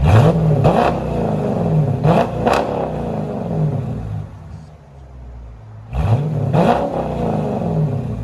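A 2020 Dodge Challenger R/T with a 5.7L HEMI, Borla ATAK exhaust and resonator delete revs in three loud, close bursts, each rising and falling, with a gap of quieter idle rumble between them.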